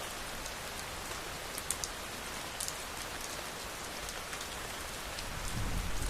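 Steady rain falling, a soft continuous hiss of drops on surfaces with scattered louder splashes, then a low rumble swelling near the end.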